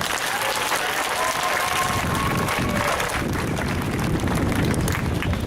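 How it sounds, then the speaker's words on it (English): Sustained audience applause at a hunger-relief rally at the Texas state capitol, a steady dense wash of clapping that stays loud and even throughout, with faint crowd murmur beneath. "So everybody give yourself a big round of applause"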